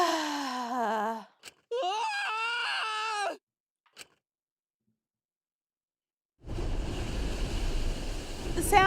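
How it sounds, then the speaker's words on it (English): In the Danganronpa V3 video game, water floods out in a loud, dense rush that bursts in after several seconds of silence, following wailing, moaning vocal sounds and a few brief clicks. "A wall of piranhas and water dyed red with blood rushed out."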